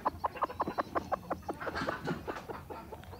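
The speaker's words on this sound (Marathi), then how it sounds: "ही आहे आमची खुडूक कोंबडी जिला आम्ही अंड्यावर बसवलेलं आहे" A broody hen sitting on a clutch of eggs in a poultry shed gives a close, steady series of short, evenly spaced clucks, which soften into a murmuring, fainter stretch toward the end.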